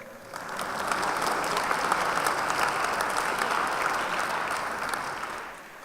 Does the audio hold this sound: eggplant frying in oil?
no